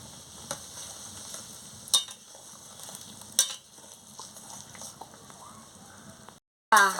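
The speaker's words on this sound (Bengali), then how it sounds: "জলটা দিয়ে ভালো করে নাড়িয়ে নিচ্ছি।" Potol aloo posto with water is stirred in a pan: soft scraping and light sizzling with a few sharp clinks of the spoon against the metal, then a brief pause and a louder burst of sizzle at the end.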